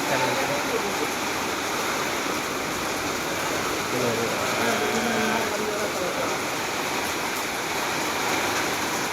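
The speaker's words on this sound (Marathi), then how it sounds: "पाऊस वाढला बघा." Heavy rain pours steadily in the open at a rural farmyard, a dense continuous hiss that swells in intensity, with a voice speaking faintly underneath.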